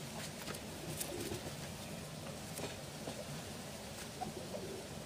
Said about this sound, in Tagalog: Ito naman yung pang-anim nating kalapati mga kalapatids.